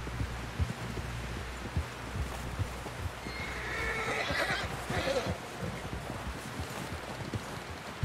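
A horse in the video game Red Dead Redemption 2 whinnies once, loud and shrill, amid a soft rustling background with faint hoof clops and other low noise.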